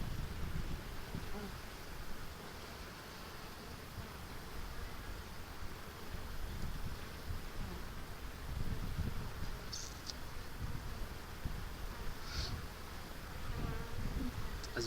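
Honeybees buzz steadily around Kenyan top-bar Dadant hives, a dense close hum that continues throughout with a few brief sharper passes of individual bees near the listener.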